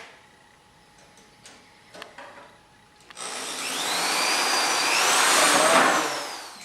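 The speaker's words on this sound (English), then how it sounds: "Screwing in the reinforcement plates" Power driver screwing reinforcement plates onto a wooden trebuchet: a few light ticks and taps, then a rising, whining motor burst lasting several seconds as a screw is driven in close by.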